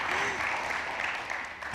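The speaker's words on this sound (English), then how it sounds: "You're getting lots of applause" Studio audience applause at a talk-show style taping, a steady dense wash of clapping filling the whole stretch at moderate level.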